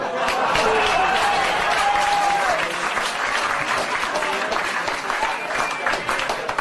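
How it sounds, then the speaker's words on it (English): Comedy club audience applauding a stand-up comic, dense sustained clapping that fills the room at steady loudness, with a host's voice calling out over it. "Keep it going for Rich Voss, everybody"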